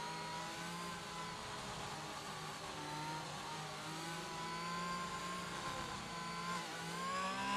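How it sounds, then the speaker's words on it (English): Alfa Romeo race car at the Singapore Grand Prix street circuit, its engine droning steadily with rising and falling pitch as it revs through the lap, loud and continuous with no other sounds over it. "Jump on board with the Alfa Romeo to see when he decides to take the chance. Just wait for the engine notes."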